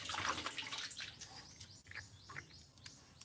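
Small birds chirp faintly outdoors in a rural spot with farm animals nearby, a few short scattered calls over a soft wash of running water and low background noise.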